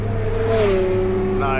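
A mid-engine sports car drives along Mulholland in Los Angeles, its engine note rising and sliding through a brief rev, with a voice talking over it.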